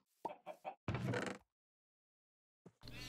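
Chickens cluck in Minecraft, a few short clucks and a longer squawk close up, with silence before one more cluck starts at the end.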